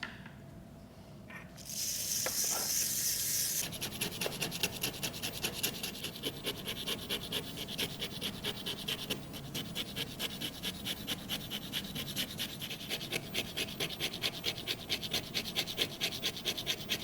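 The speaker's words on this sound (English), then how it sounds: "I'm using a stiff nylon brush because I think it's going to be loose enough that this will do it." A stiff nylon brush scrubbing brittle old glue off the surface of a painting, giving close, rapid, rhythmic scratchy strokes that carry on steadily after a brief hissing burst near the start.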